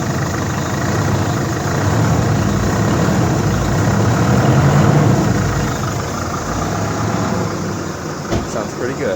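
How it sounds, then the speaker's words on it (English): Jeep Liberty CRD diesel engine idles after its first start following an EGR delete tune, a steady low rumbling drone held at an even level, close by, with a brief knock near the end. "So it's the first time trying to start it after the EGR delete tune."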